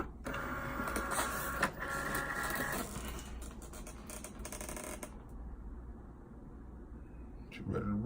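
A Cricut Maker cutting machine works through vinyl with a steady mechanical whir and buzzing carriage motion that shifts in pitch, then quiets into a softer hum before a final clunk.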